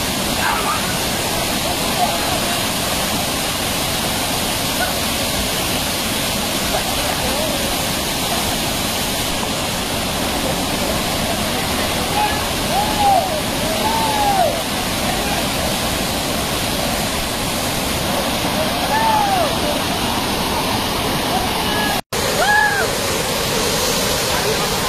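Mangampeta waterfall in Kurnool roars as a constant broad rush of falling water filling the whole scene, with a few faint bird chirps above it and a brief sharp click near the end.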